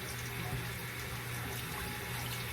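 Lukewarm tap water runs steadily from a faucet while a denture is held under it and brushed, a continuous close hiss and splash with no voices.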